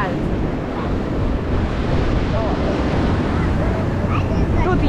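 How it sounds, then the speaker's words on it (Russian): Sea waves rolling onto a beach in Odesa, a steady loud wash of surf with heavy wind buffeting the microphone throughout. "Волны мне нравятся."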